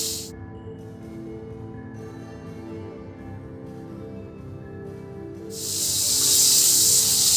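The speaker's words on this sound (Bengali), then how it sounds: "ওই তেলের মধ্যেই আমি যে ক্যাপসিকাম পেঁয়াজ বড় বড় টুকরো করে কেটে রেখেছিলাম সেইগুলো দিয়ে 1-2 মিনিট ভেজে নিতে হবে" Capsicum and onion cut into large pieces frying in hot oil over high heat, a steady soft sizzle with a mechanical hum beneath, rising to a loud, dense hiss near the end.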